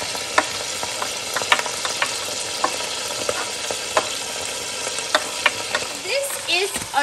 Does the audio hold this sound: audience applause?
no